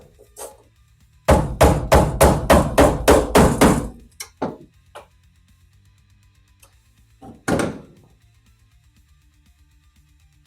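Repeated metal blows while prying a spot-welded heater channel carpet rail off a Volkswagen body during restoration: a rapid burst of about ten sharp hammer strikes, then a few scattered knocks and one more loud hit, close and without talk.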